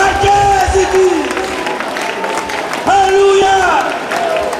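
A church congregation claps and cheers in praise of Jesus Christ, with loud, dense applause rising in two waves under a preacher's amplified voice.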